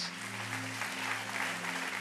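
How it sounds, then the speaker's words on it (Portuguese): A church congregation applauds together in a dense, steady wash of clapping for the whole short stretch, without speech over it and with a low hum underneath. "Vamos aplaudir o Senhor Jesus pela vida dos nossos irmãos."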